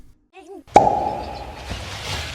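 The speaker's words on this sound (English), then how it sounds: "That was a wine cork pop." A wine cork pops sharply out of a bottle once, a loud close burst followed by a fizzing, ringing tail after a brief hum of voice.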